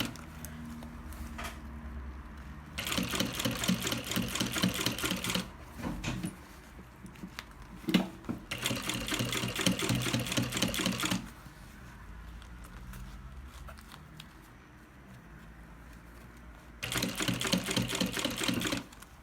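A sewing machine stitches bias binding onto a baby bag in three loud bursts of rapid mechanical whirring, separated by quieter pauses with small handling clicks.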